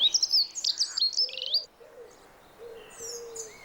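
Small songbird, a dunnock or hedge sparrow, singing in a suburban British garden in spring: a quick, high, warbling twitter that stops abruptly, followed by faint distant calls and softer bird notes.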